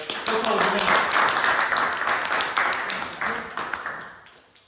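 A Toastmasters public speaking meeting audience gives a round of applause, a brisk burst of overlapping hand claps that fades out toward the end.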